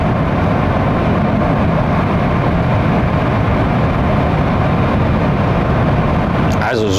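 Steady low road and wind hum inside a Genesis G80 electrified, a fully electric business limousine, cruising at 130 km/h on the Autobahn, a constant broadband rumble with no engine note and a brief rustle at the end.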